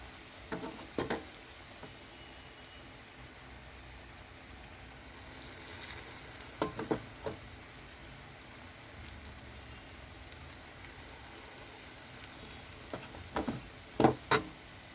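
Radish fritters frying together in a pan of oil, giving a quiet steady sizzle broken by a few brief crackling bursts and spatters spaced through the stretch, the loudest near the end.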